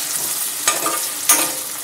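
Chopped onion and potato fry for rawa upma in a steady, close sizzle, with two brief stirring scrapes breaking the continuous crackle.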